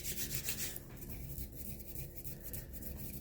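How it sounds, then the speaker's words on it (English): Hands rub briskly over the neck and shoulders in a fast, firm ASMR massage, giving a close, quiet, continuous friction sound with no speech. "Rubbing down this side."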